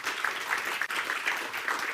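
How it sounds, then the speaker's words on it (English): Audience applause in a conference hall at an AWS community tech event, steady dense clapping from a room of attendees with a brief dip near the middle, fairly close and sustained throughout. "let's have a huge round of applause for ourselves"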